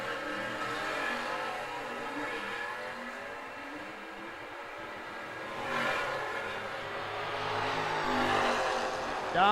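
A 1979 Malibu wagon and a 1967 Camaro at an outlaw drag race, engines roaring continuously and loudly as they launch, with the noise swelling again later on.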